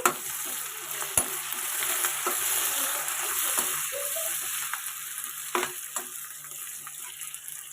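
Onions fry in a pan for a vegetable curry, a soft, steady sizzle close by with occasional sharp scrapes and taps of a stirring spoon against the pan.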